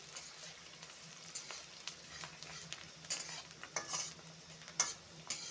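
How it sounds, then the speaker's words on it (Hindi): Onions sizzle and crackle in hot oil, with occasional stirring scrapes and clinks from a utensil, close by and fairly quiet. "इसी तेल पे मैं पहले प्याज ऐड कर देंगे। प्याज को मैं 2 मिनट फ्राई कर लेंगे।"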